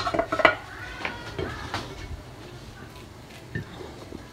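A lid is set over a pan with a couple of metallic clanks and clicks near the start, followed by a quieter background hiss and a faint later knock.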